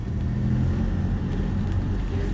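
A 1973 Chevrolet Chevy Chevron coupé in wild orange cruises along, its engine a steady, close low rumble mixed with road noise and no break or spoken voice.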